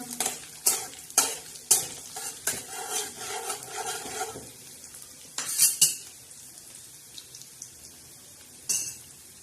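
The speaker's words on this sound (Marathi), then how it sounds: "चला आता याला छान असा तडका बसत आहे हे बघा" Green chillies and lemon sizzling in a hot pan as a tempering, with several sharp clinks and scrapes of a spoon stirring at first, then a quieter hiss and a couple of isolated clanks.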